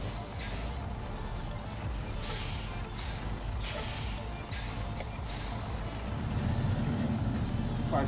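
A heavy truck grinds along in the SnowRunner off-road game, its engine drone loud and continuous with hissing bursts and mechanical clanks, the low rumble swelling near the end.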